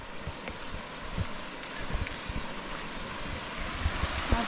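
Waterfall in the Dominica rainforest, a steady broadband rush of falling water roaring continuously at close range, with some wind buffeting the microphone and no voices.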